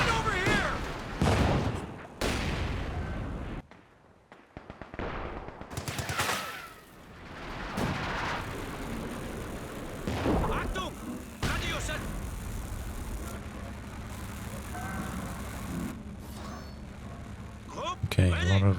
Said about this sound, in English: There's the mortar half trick starting to barrage in.